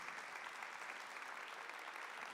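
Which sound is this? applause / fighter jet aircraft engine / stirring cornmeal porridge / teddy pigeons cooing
applause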